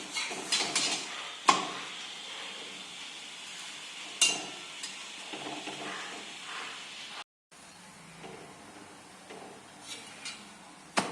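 Oiled fenugreek-leaf (methi) paratha roasts on a hot griddle over a high gas flame, giving a soft, steady sizzle broken by occasional clinks and scrapes of a spatula.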